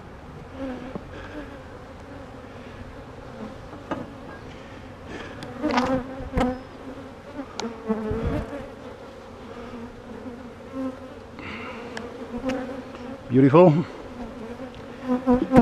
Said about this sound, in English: The rest are bubbling with bees.